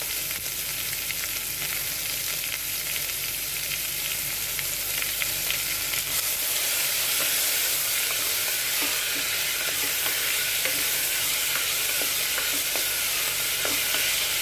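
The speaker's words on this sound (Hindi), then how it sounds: "प्याज ब्राउन हो गए, अब हम इसमें डाल रहे हैं टमाटर, अदरक, हरी मिर्च और धनिया।" Tomatoes, ginger, green chili and coriander frying in a pan with browned onions, a steady loud sizzle with occasional stirring clicks and scrapes throughout, no talking.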